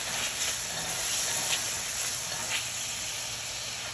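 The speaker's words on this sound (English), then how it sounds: "now we're gonna deglaze our pan here with our Shaoheng cooking wine." Shaoxing cooking wine poured into a hot pan to deglaze it while cooking Chinese takeout-style chicken and broccoli, giving a steady, close hissing sizzle of steam that holds for about four seconds and eases off slightly toward the end.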